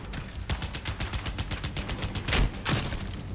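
Gunfire in the shooter game Battlefield Hardline: a rapid, loud burst of automatic shots in fast, even rhythm, with two heavier blasts near the end as a rocket fires and explodes against a wall.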